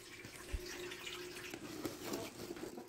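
Water running and splashing steadily, as if poured into a container for dogs and chickens at a backyard animal area, fairly close with a continuous wash and a few small splashes and knocks.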